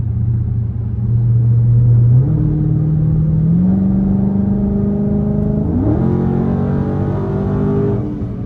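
A straight-piped Dodge Scat Pack drones loudly on the highway, its deep exhaust rumble climbing through two stepped gear pulls before settling into a steady cruise.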